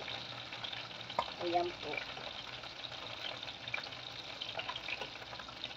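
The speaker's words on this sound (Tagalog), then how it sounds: "Dito ko na lang sa niluto sa kawali." Food fries in a kawali (pan) with a steady, faint sizzle and crackle. A voice briefly says a short phrase partway through.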